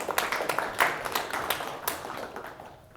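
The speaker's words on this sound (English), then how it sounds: "Round of applause for James." Scattered clapping from a small meetup audience thanking a speaker, a handful of distinct hand claps at moderate distance that thin out and fade within three seconds.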